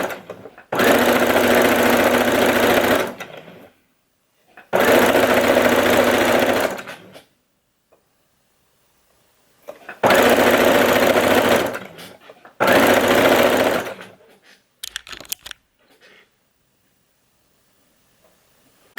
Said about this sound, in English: So I'm going to do a little back stitch first. And then we're going to do a forward stitch.